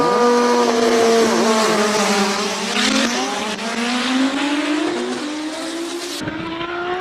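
Race car at a King of the Mountain hill climb in Cape Town, engine note rising and dropping through a series of quick gear changes, loud and close with a brief tire squeal.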